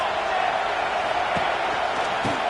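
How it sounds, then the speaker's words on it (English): A stadium crowd at a college football game, USC at Clemson, gives a steady, broad roar filling the background with no break. "This crowd trying to make life miserable for this offense."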